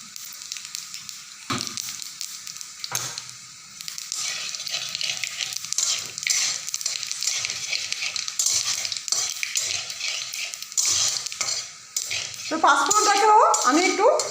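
Dry red chillies, bay leaf and panch phoron fry in oil with a continuous close sizzle, broken by a few spoon scrapes and utensil clinks, growing busier near the end.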